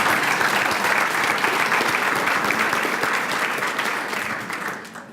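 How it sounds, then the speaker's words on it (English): A crowd at a Florida political forum applauds the candidates for governor and attorney general, a loud sustained wash of clapping that gradually fades toward the end. "Come on, a round of applause."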